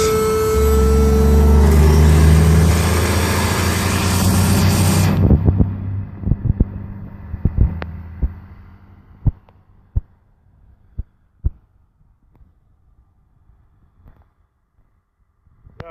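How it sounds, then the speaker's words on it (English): A small push-button electric pump inflating a Cronin inflatable boat runs loud with a steady whirring drone for about five seconds, then cuts off, leaving scattered clicks and knocks. "This is the pump he uses. It's a cool little pump. Push a button and off she goes."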